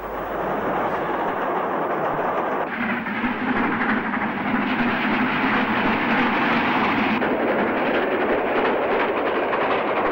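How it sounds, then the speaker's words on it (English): A Castle-class steam locomotive hauling a passenger train past Lapworth on a Margate to Wolverhampton service in the 1960s: a steady loud rush and rumble of the passing train that continues throughout, with no speech. "2 Castle-hauled passenger trains passed Lapworth, the second on an inter-regional Margate to Wolverhampton service."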